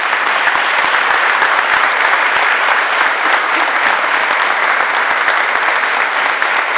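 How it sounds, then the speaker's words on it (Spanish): Steady, loud audience applause fills a closing ceremony of a San Carlos choral event, dense clapping continuing evenly throughout with no voices. "Pido un fuerte aplauso para ellos"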